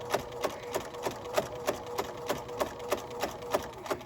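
A sewing machine slowly stitches along the side of a fabric face mask, its needle thumping in an even, steady rhythm of about three strokes per second, close and moderately quiet.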